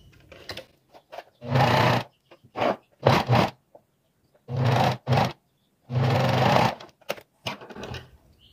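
A sewing machine stitches a seam joining two parts of a vintage apron, running in several short and longer bursts with silent pauses between, close and clear without speech.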